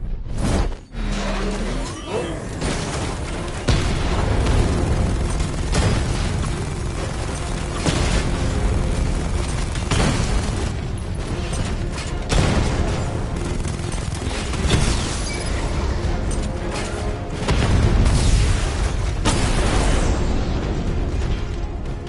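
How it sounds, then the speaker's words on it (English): The Batmobile's 60mm cannon in the video game Batman: Arkham Knight fires repeated heavy booming blasts that roll into one another, keeping up a loud, dense barrage for the whole stretch. "Your 60mm cannon will penetrate these heavily armored units, but it'll take a few direct hits to destroy them."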